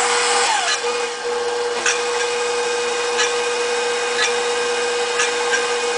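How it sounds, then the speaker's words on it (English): Whisk of a KitchenAid Professional 550 Plus stand mixer rasping against the bowl, a steady loud whirring motor hum with faint scraping ticks recurring about once a second. "let's listen again to the sound of the whisk actually touching the side of the bowl"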